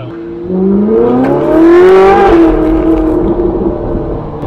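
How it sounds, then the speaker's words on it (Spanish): A Ferrari sports car engine revs up loudly with rising exhaust pitch, peaks, then settles into a throaty, rumbling drone close by. "suena como si fuese a fondo porque el escape hace todo"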